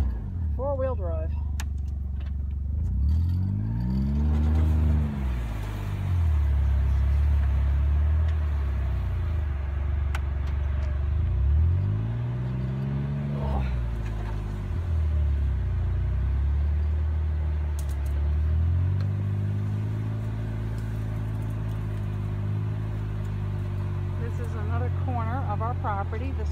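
A four-wheel-drive vehicle crosses thick farm pasture with a low engine drone that rises and falls through several revving swells, close by, while someone talks over it.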